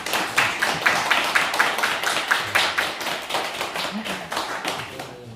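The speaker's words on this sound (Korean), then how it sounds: "일어나서 박수 한번 해요." Congregation applause during a Sunday church service, a rapid run of claps spread across the room at moderate volume with no talk over it.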